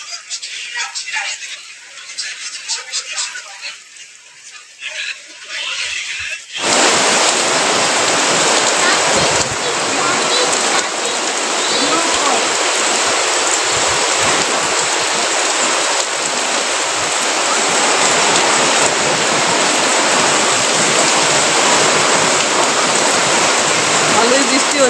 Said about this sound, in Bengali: ভালোই বৃষ্টি হচ্ছে, আওয়াজটা দেখেছো?